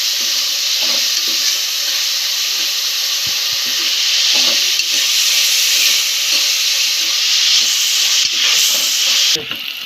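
Onions sprinkled with salt frying for a homemade mutton curry, a loud, dense, continuous hiss of hot oil up close, broken by occasional scraping stirs in the pan.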